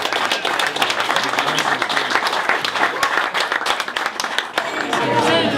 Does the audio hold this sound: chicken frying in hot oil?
no